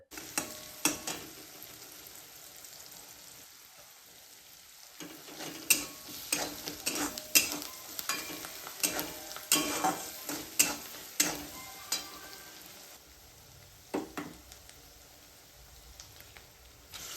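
Crushed garlic and spices sautéing in hot oil: a continuous close sizzle with repeated scraping stir strokes against the pan, steady throughout with no talking.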